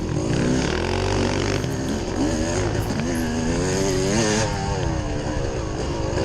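A KTM 450 dirt bike races in a hare scramble, its engine loud and close, rising and falling in pitch as the rider works the throttle and shifts, with no voices over it.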